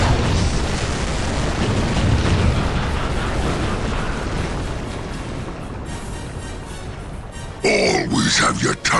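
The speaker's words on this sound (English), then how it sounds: "Use explosives!" A bomb goes off in the video game Dark Crusade, a loud broad rumbling blast that slowly fades, followed by a gruff voice speaking near the end.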